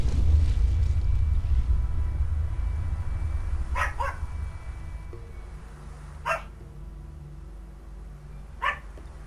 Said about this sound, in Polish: znowu się pies odzywa